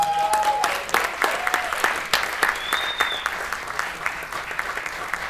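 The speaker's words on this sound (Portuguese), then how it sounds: "aqui, salva de palmas para ele." Steady audience applause for filmmaker Ruy Guerra at a post-screening talk, dense and sustained for about five seconds, with a few brief voices and tones faintly over the clapping.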